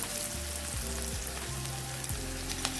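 Onions and green chillies fry in hot oil for a butter mutton curry, giving a steady close sizzle and crackle with several stirring scrapes and clinks over the pan, and nobody speaks.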